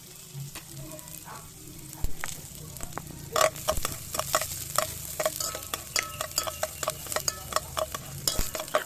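Chicken pieces and aromatics stirred and sautéing in a pan for tinola, with a soft steady sizzle under scraping spoon strokes and clinks that grow busier partway through.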